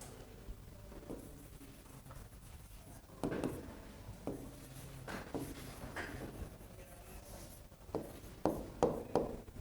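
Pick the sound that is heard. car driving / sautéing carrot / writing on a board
writing on a board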